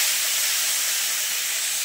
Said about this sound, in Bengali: এবার দিয়ে দিলাম কুচিয়ে রাখা পেঁয়াজ